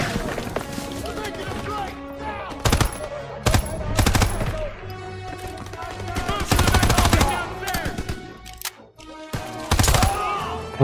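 Gunfire in the Call of Duty WWII campaign: several loud, sharp shots and short bursts at irregular intervals, some near and some farther off, with a voice talking between them over busy battle noise.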